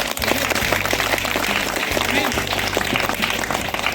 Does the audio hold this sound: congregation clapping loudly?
yes